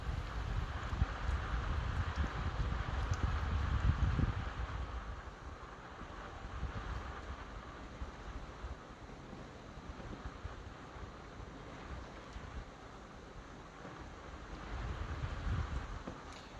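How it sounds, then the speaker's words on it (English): Gusty wind from Major Hurricane Melissa in Jamaica pushes against a sealed door, a steady broadband roar that swells at the start and again near the end. "It's locked and sealed, but it's just the wind pushing."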